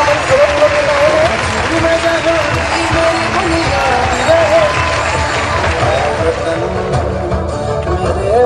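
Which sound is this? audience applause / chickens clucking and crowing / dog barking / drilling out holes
audience applause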